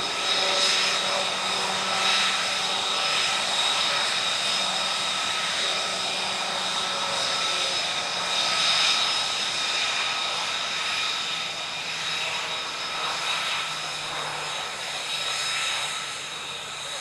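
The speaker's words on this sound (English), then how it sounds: "And not a landing, but a low pass from the 767" Boeing 767 jet making a low pass at an Italian Air Force centenary airshow, a sustained loud engine roar and whine that swells and eases slightly over the whole stretch.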